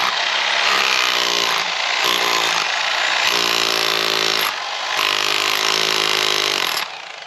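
A Harbor Freight Bauer hammer drill runs hot in close, loud bursts: a steady whining motor drone with several brief dips and restarts before it winds down at the end.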